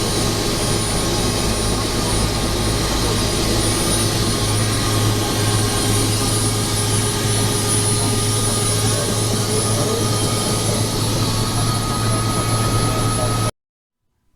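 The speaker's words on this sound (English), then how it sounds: "we ended the trip with a fabulous helicopter ride" Steady loud roar and whine of a helicopter heard from inside the cabin during a scenic ride in the Canadian Rockies, unbroken engine and rotor drone throughout before it cuts off abruptly.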